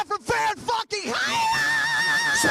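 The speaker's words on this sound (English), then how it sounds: "let's hear the fucking heavy metal scream" A man lets out a long, loud, strained heavy metal style scream at a party, starting with short shouted bursts and then held as a continuous raspy yell right up close.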